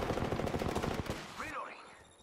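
Rapid bursts of automatic gunfire from a firefight in the battle royale game Apex Legends, loud and dense for about a second, then cutting to quieter sweeping electronic tones.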